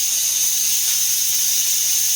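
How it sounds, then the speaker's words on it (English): A steady, loud, close hiss of steam escapes from a tipped pressure cooker valve after home canning pineapple, continuous and unbroken with no voices. "Just want to tip the valve over so that it will release the steam."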